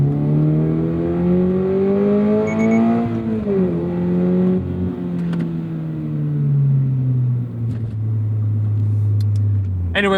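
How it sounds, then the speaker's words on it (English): Lotus Emira engine droning loudly through the whole stretch, its pitch swelling and dipping with throttle blips before settling into a steady lower hum near the end. "I feel like I need to really be intentional to blip this hard"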